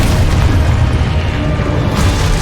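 A Confringo fire spell detonates in Hogwarts Legacy, a loud, deep booming blast with a rumbling burst that stays heavy across the whole moment.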